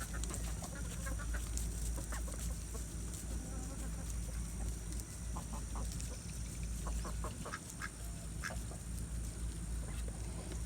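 Chickens and ducks cluck and quack around a homemade poultry feeder in a farmyard, with scattered close calls over steady background noise, no talking.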